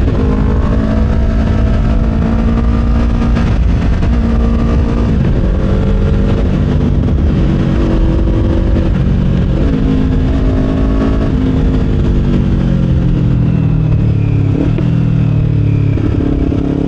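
Kawasaki Ninja 500 motorcycle engine under way, a loud continuous drone close to the rider that rises and falls with shifting revs, mixed with wind and road rumble and no talking.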